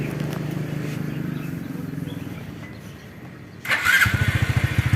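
A Honda Supra X 125 fuel-injected motorcycle cranks and fires up near the end, its engine settling into a steady close putter after a stretch of low idle-like rumble.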